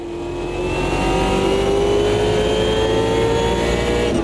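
DTM race car engine in the Automobilista 2 sim racing game, a loud sustained high-revving drone with a smoothly rising pitch, close and continuous without talk.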